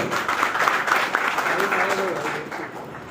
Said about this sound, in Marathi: पुन्हा एकदा टाळ्या झाल्या पाहिजे त्यांच्या